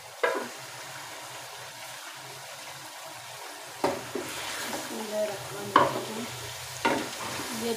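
Minced keema frying in a pan as a dum (coal-smoked) dish, with a steady low sizzle and bubbling throughout, broken by a few sharp stirring scrapes and clinks near the end.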